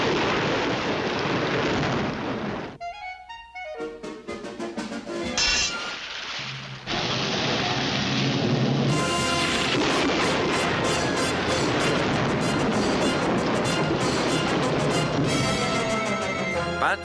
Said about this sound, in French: Formule K9, orage artificiel.